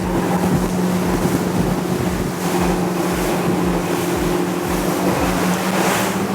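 A GSX 32 motorboat runs at speed over two-foot waves in open water, its engine droning loudly and steadily while the hull slaps rhythmically against the swells amid wind rush.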